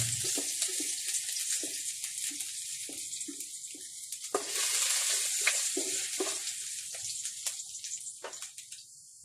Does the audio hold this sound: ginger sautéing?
yes